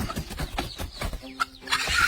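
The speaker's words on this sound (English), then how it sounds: "The hen counters with a series of heavy wing slaps." A hen clucking and squawking while fighting off a goshawk, with quick irregular bursts of flapping and wing slaps, close and agitated over a short stretch.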